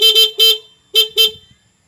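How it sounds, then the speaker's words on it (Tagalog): Stock horn on a Honda Click 125Fi scooter honks in four short, loud bursts, two quick pairs separated by a brief gap, close and alone. "Stockhorn."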